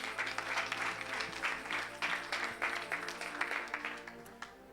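A church congregation claps and applauds in a dense, rhythmic wash of hand claps that keeps going throughout. It sounds moderately loud in a reverberant room, with faint voices mixed in under the clapping.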